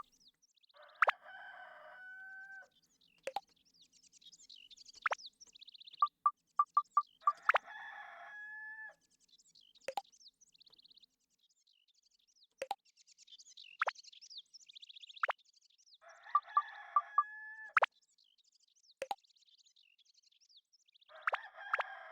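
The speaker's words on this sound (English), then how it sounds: "I'm gonna find these chickens in this game and destroy" Rooster crowing from the video game Dark Cloud, several clear cock-a-doodle-doo calls repeating amid clucks, chirps and sharp plopping effects against a quiet background.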